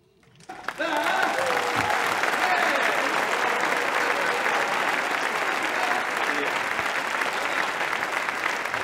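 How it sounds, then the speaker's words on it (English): After a lecture on the Moon, Mars and Tesla ends, a large audience bursts into applause within the first second and keeps clapping steadily and loudly to the end. "Again, another round of applause for David Hatcher Childress."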